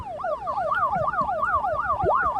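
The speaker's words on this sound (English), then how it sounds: "you can kind of hear some sirens in the distance approaching" Wailing emergency sirens sweep rapidly up and down in an overlapping rhythm, a steady, moderately loud sound effect of sirens approaching through a city, heard alone without voices.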